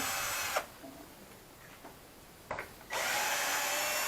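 A power drill backs screws out of a dining chair during a home repair, with two short bursts of whirring followed by a longer, steady run that stays close and loud until the end.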